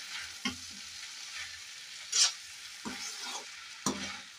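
A spoon scrapes and stirs a dry potato and black-eyed bean curry in a pan, with several separate scraping strokes over a faint sizzle, close up and fairly quiet with no talking.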